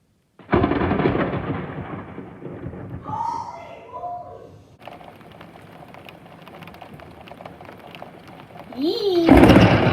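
A severe thunderstorm rumbles with loud, sustained thunder and rain. A voice and other voices come through partway, and the roar surges again at the end.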